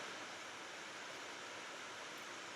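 Falling drops of rainwater make a dense, even broadband wash of steady hiss with no distinct individual patters, faint and continuous, without voices.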